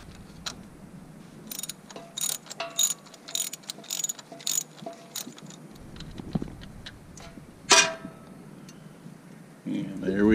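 A ratchet wrench clicks in short, uneven bursts, close by, while undoing the 14 mm sump drain bolt on a diesel Toyota Land Cruiser 200 Series during an oil change.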